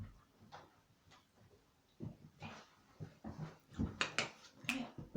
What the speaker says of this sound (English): I can hear a dog wanting to come in